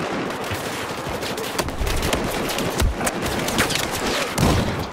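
Dense gunfire in the Battlefield 4 video game, with rapid overlapping shots and automatic bursts forming a continuous loud barrage throughout.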